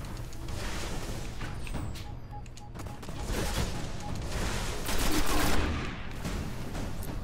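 Rapid automatic gunfire crackles in a Destiny firefight, loud sustained bursts with no clear pause.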